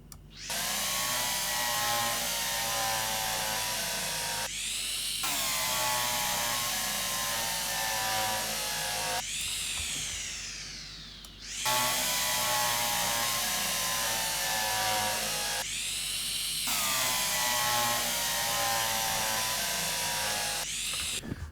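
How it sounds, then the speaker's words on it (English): A power drill in the video game Derail Valley runs in long, loud, steady whirring bursts with a rising tone and brief pauses between them, heard alone without talk. "Right, the drill."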